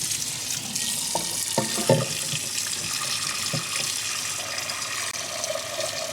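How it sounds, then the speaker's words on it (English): Hot water runs from a kitchen tap into a sink, a steady close splashing rush with a few clinks of a pot or utensil near the start. "I'm just getting some hot water out of the tap."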